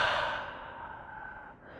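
A single long, soft exhale during a yoga class backbend, close and steady, fading out after about a second and a half with no talk over it.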